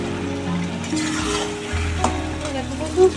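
Mutton curry with turmeric stir-fried in a pan, a steady close sizzle with scraping spoon strokes and a sharper clink near the end, no talk.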